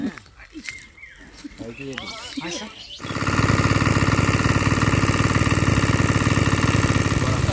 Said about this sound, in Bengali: পুকুরে না কিছু জল আছে সেই জলগুলো আরও তোলা হচ্ছে তো মেশিন স্টার্ট করেছে